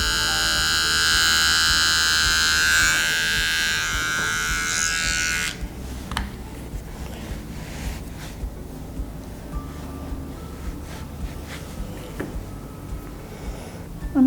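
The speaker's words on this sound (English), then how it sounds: "I'm going to clip in between his eyes, and I'm going to go with the direction of the coat." Electric clippers trim the fur between the eyes of a bichon, giving a close, steady high buzz for several seconds before cutting off, followed by quiet handling noises and faint clicks.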